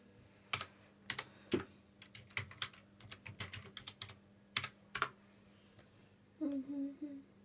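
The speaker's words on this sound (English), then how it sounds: "And then you can type stuff in again" Bursts of typing on a computer keyboard, with quick clustered key clicks and short pauses, close and fairly quiet, ending with a brief faint vocal sound.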